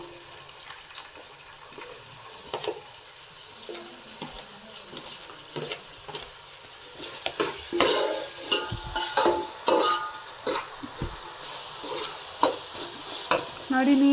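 Tomato and capsicum sizzle in a pan with onions as a spoon stirs them, quiet at first, then louder from about seven seconds, with repeated scraping strokes and bursts of frying close by. No talk.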